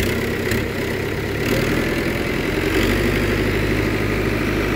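A farm machine's diesel engine running after being started on a wheat harvest and straw baling day, a loud steady idling rumble that rises slightly as it revs, heard close with no talk.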